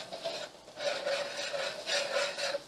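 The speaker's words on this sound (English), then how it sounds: "Give it one nice good scraping here at the bottom." A spoon scrapes caramelized onions off the bottom of a soup pot for French onion soup, giving repeated rough, rasping strokes that come in loud waves, close up with nobody talking.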